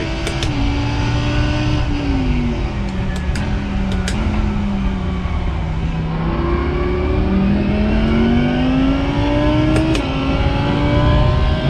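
A Lamborghini engine in a racing sim, revving continuously through gear changes with rising and falling pitch, loud and sustained with brief shift clicks.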